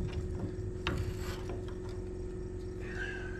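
A ratchet wrench clicks while a nut and washer are backed off a corn head during a rebuild, with a steady run of close mechanical ratcheting over a constant low hum.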